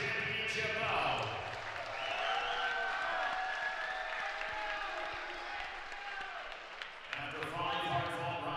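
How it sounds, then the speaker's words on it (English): Crowd applause and cheering at a kickboxing championship fight night, a steady roar of clapping and voices throughout, with an announcer speaking over it. "a round of applause for one great championship bout"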